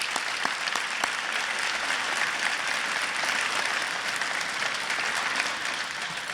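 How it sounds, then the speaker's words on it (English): An audience at a city's State of the City address bursts into continuous, dense applause that stays full and steady from start to finish. "Big round of applause, please."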